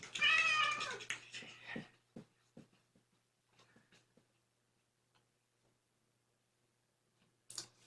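A kitten gives a loud, drawn-out meow up close at the start, then faint ticks and small taps follow in near silence, with another brief meow at the end.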